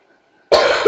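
A single sharp cough from a person bursts out of near silence, close and loud, with a brief rough tail.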